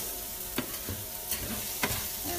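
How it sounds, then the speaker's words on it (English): Risotto rice being stirred through in a pan, with a steady background sizzle and a few sharp scraping clicks of the spoon against the pan, no voices. "we're going to put our risotto rice in there. And we'll just give that a stir through."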